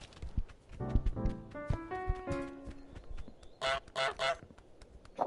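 Goose honks from Untitled Goose Game, a few short nasal calls near the end after a stretch of plucked musical notes and light footsteps in the garden level.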